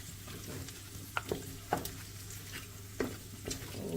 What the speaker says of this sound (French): on va mettre juste un peu de marinade là et on va venir tout bien mélanger pour les dernières minutes